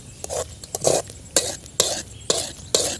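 A spoon stirs a thickening potato toffee mixture in a pan. It makes repeated scraping, clinking strokes in an uneven rhythm, close and fairly loud, with no talking.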